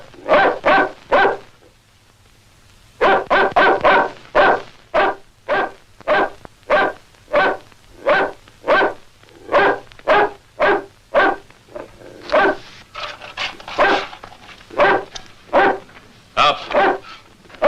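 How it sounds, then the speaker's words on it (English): A dog barks in a steady series of loud, close woofs, pausing briefly before the barking resumes and continues with sharper, more excited yips toward the end. "We'll see if that dog can move you."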